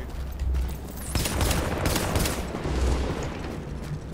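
Gunfire and grenade blasts from the shooter video game The Division, a dense continuous barrage of rapid shots with heavier booms, loud and sustained throughout.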